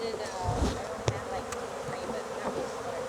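Honeybees buzz steadily and close during a hive relocation, a continuous droning hum with brief knocks as the bees are shaken and bumped about.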